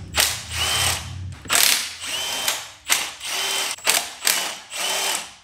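A ratchet loosens the fuel rail bolts on a Mercedes C63 AMG engine in a series of close, sharp bursts of rapid clicking. About six or seven separate strokes are broken by short pauses.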